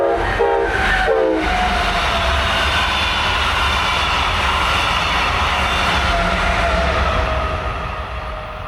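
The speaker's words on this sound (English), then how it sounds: "The train is slowing down here as it approaches the tight curve to pass under US 1." A southbound Brightline passenger train passes near Hobe Sound, Florida, heard as a steady, loud rumble throughout, with two short horn blasts near the start before the sound slowly fades toward the end.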